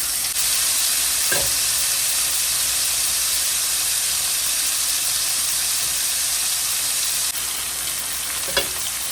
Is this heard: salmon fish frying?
yes